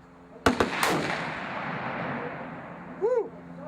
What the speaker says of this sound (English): I'm confident that I can get another good shot.